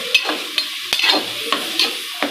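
A black chickpea gravy being tempered and sautéed in a pan, with a close sizzle broken by sharp scraping strokes of a spoon at a steady rhythm, about five stirs in quick succession and no voices.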